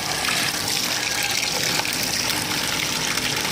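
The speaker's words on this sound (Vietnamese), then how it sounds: "Mình chỉ nên dùng cái vòi nước nhẹ nhẹ như thế này." A gentle garden hose spraying water over a mass of tubifex worms, giving a steady, close hiss and splash of running water that holds at an even level throughout.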